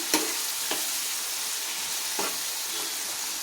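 Broad beans and tomato curry fry in a pan, a steady sizzle running throughout with a few sharp scrapes of the stirring spoon against the pan, close and alone with no voices.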